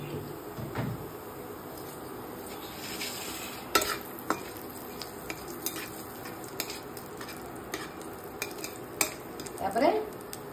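Whole cloves, black cardamom and two to three bay leaves fry in hot oil in a pan for a crab curry, with a steady sizzle under scattered stirring scrapes and clinks of a utensil against the pan.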